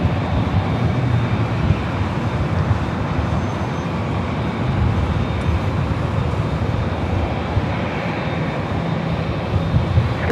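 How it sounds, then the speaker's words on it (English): An Air Tahiti Nui Boeing 787-9 Dreamliner at LAX, bound for Papeete, its engines giving off a steady broadband roar that stays even throughout with no talk over it. "Air Tahiti Nui Flight 7 heading to Papeete in the 7-year-old 787-9 Dreamliner"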